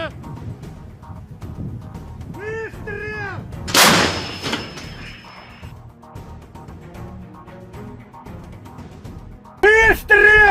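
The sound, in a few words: artillery fire with explosions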